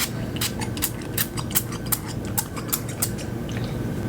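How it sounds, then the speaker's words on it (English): A spray bottle of hair product fires a rapid series of sharp, hissy bursts, about a dozen quick pumps in an uneven rhythm, close and fairly loud over a low background rumble. "I'm just gonna spray this over my head."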